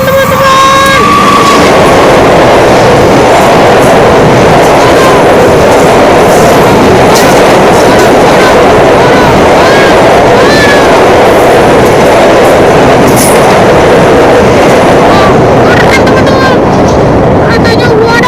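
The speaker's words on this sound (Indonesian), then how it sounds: "Kereta api melewati gerimis teman-teman. Wow, oke, kita dapat klakson teman-teman." A CC 201 diesel locomotive hauls a train past in light drizzle in Indonesia, its loud rumbling roll and clattering wheels dominating the scene. A horn blast sounds early on, and a voice speaks over the train.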